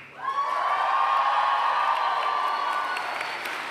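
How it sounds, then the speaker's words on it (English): A graduation crowd for education, sociology and languages students lets out a huge cheer with high whoops and shouts over clapping, swelling quickly and holding loud before easing slightly. "but one more huge cheer."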